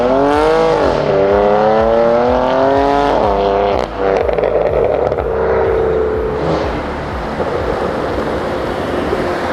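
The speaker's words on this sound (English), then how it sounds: "Let's burn some tires real quick." A Jeep Trackhawk burning its tires in an open spot in Mexico: a loud, close engine revving and rising in pitch, then a long roar of wheelspin and tire noise that tails off.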